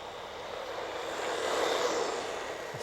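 A WLtoys RC car's electric motor runs at full throttle during a speed run, a steady, fairly loud whine and rush that swells slightly midway and carries on without a break, with no talking.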